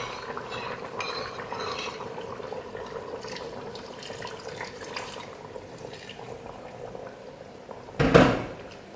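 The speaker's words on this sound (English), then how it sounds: "So it's boiling rapidly now." A pot of chicken curry with cornstarch and chickpea flour bubbles and rolls steadily at a rapid boil, with a brief louder clatter near the end.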